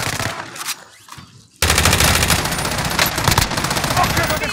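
Rapid automatic gunfire in Call of Duty Warzone, loud and close, sustained bursts that start abruptly after a quieter opening and keep going continuously to the end.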